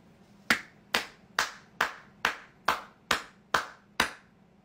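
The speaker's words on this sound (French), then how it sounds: "Je vous applaudis encore ?" One person claps slowly: nine sharp, evenly spaced hand claps, close and alone over a quiet background.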